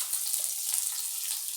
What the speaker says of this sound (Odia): ଅଦା ଆଉ ଲେସୁନର କଞ୍ଚା ବାସ୍ନା ଯିବାର ତକ ତାହାକେ ଆମେ ଭାଜିଦେମା